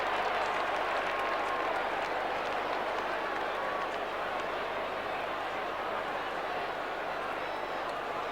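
A distant football crowd at a 1989 Essendon versus Geelong preliminary final makes a dense, steady roar that swells in expectation, with faint clapping woven through.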